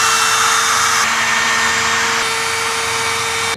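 A power trimmer whines loudly and steadily while trimming laminate on overhead cabinet interiors, a continuous high-pitched motor roar with a slight shift in tone partway through as the bit cuts.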